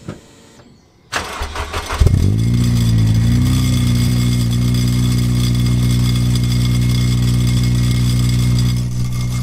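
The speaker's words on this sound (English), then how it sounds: "It's got a little bit of a rattle, that exhaust" A used van's engine cranks, catches and settles into a steady low idle with a slightly rattling exhaust, loud and close, running on evenly with no one speaking.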